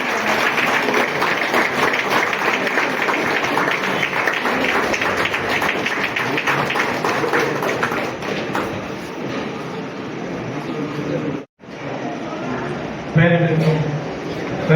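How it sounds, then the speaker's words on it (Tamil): An audience applauds at a special postal cover release for Aathur betel leaves, a dense sustained clatter of many hands close by. It drops out briefly near the end, then returns faintly under a voice. "அனைவரும் கரகோஷம் எழுப்புமாறு தயவு செய்து கேட்டுக்கொள்கிறேன்."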